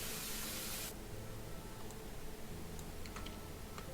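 A short burst of spray in House Flipper as plants are sprayed green, a loud hissing rush lasting about a second before cutting off to a quieter background with faint ticking clicks.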